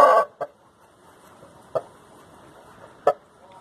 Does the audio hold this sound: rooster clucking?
yes